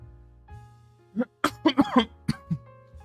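A short burst of several harsh coughs, close and loud, over a faint steady hum in an otherwise quiet room.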